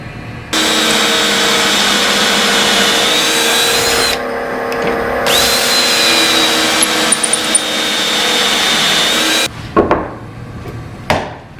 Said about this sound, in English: I'm just gonna get the Craig jig out and just put some pocket holes in here